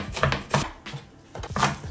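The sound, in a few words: chopping green onions and herbs finely with a knife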